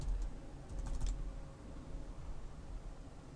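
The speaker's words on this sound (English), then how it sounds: "type in our password again" Keys clatter on a computer keyboard as a password is typed, a quick burst of faint clicks early on, then quiet room noise.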